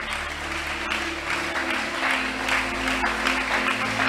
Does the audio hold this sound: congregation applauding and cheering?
yes